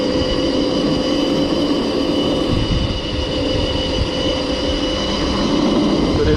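A 2008 KTM 250SXF converted to electric with a QS138 70H V3 motor and Votol EM260S controller, ridden in sport mode, gives off a steady loud whine with tonal bands over rumbling wind and ground noise throughout.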